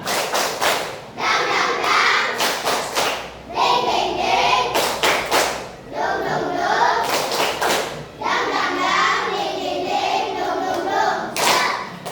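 A class of young schoolchildren claps a rhythmic 'tepuk semangat' pattern in bursts of quick, loud, sharp claps with short pauses between phrases.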